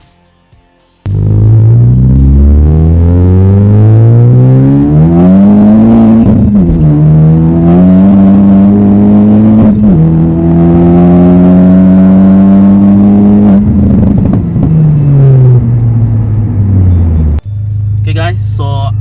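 Honda Civic Type R FK8 engine driving, a loud sustained drone that rises and falls in pitch as the car accelerates and shifts through gears, close and continuous.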